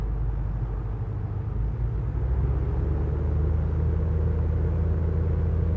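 Steady low engine drone of an aircraft during a run-up at 1,600 RPM in Microsoft Flight Simulator, a constant close rumble with slight rise partway through.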